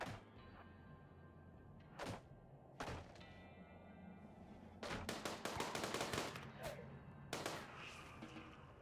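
Automated turrets open fire in the Rimworld video game during a raid, a burst of sharp rapid shots after scattered single cracks, loud and dense over a steady low game background.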